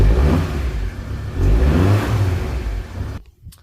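A VW T4 van engine revs through its exhaust, a loud close rumbling roar that rises and falls in a couple of surges before dropping away abruptly.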